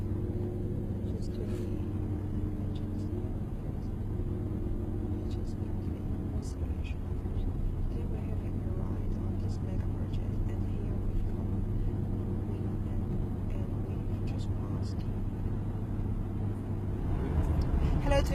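From inside a car crossing the Hong Kong-Zhuhai-Macau Bridge comes a constant low road-and-engine rumble that holds steady throughout and swells slightly near the end.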